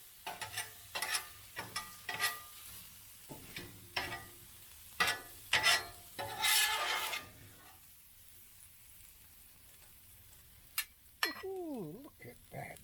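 Sausages and peppers on a Blackstone griddle give bursts of sizzling and scraping, with a spatula clinking against the flat-top in uneven strokes and a pause before a few last scrapes.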